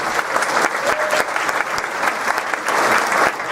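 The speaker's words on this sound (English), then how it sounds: "Let's have a big round of applause for Todd Staples" A crowd at a Texas Lieutenant Governor forum in Denton County applauds a candidate, sustained full-room clapping with sharp individual claps standing out, lasting a few seconds.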